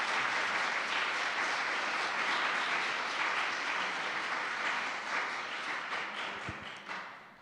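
An audience at a school board meeting breaks into dense, steady applause that holds for several seconds and then thins out and fades, filling the room.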